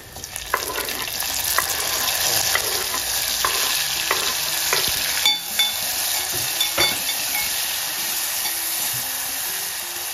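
Tomatoes fry with green chilli and curry leaves in a pan, giving a steady bright sizzle with regular scraping stirs and clinks of the spoon against the metal, close and fairly loud.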